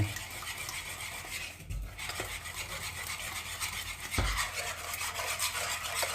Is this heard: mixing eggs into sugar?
yes